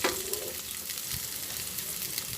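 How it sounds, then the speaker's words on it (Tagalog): Chopped onion and garlic sauté in a hot pan, a steady close sizzle and crackle of frying that runs evenly throughout without any voices. "Gisahin po natin mag-brown at saka natin ilagay ang chicken."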